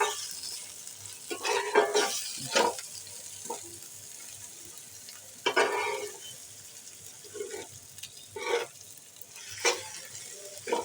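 Onion softening in salted oil in a pan, with garlic already browned, heard as a low sizzle broken by repeated loud bursts of stirring and scraping, spaced irregularly across the stretch.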